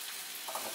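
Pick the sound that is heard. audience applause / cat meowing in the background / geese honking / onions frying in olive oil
onions frying in olive oil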